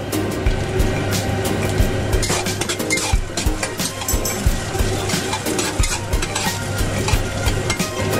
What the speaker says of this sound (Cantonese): 煎咗啲薑陣間之後咧， 就落埋啲乾葱。